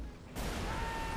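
An explosion in the video game Mercenaries 2 bursts as a loud, sudden broadband blast lasting under a second and then cuts off sharply.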